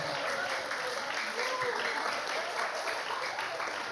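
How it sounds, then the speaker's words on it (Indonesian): Steady applause from a church congregation welcoming new leaders, dense clapping sustained throughout at moderate volume, with a few voices mixed in. "kita berikan tepuk tangan bagi setiap teman-teman baru, pengurus baru kita ya"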